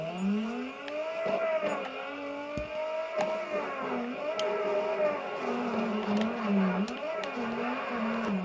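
Engine drone with pitch rising and falling in sweeps, plus occasional squeals, from a car drifting in the game CarX Drift Racing on Kami Road with a drift engine, steady and loud with no speech.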